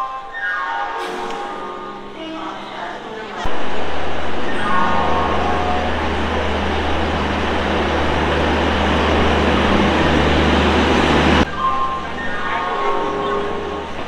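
Trains at Howrah railway station: a loud, steady rumbling roar swells in and holds for several seconds, framed by softer tonal hoots and station bustle before and after.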